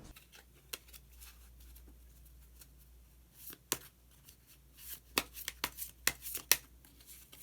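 Tarot cards shuffled and drawn in a quiet room: soft rustling, then a cluster of sharp card snaps and flicks in the second half, close and fairly faint, with no talking.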